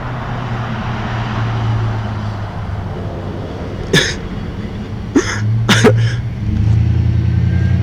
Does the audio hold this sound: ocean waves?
no